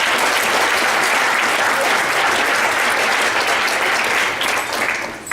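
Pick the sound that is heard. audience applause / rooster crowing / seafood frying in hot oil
audience applause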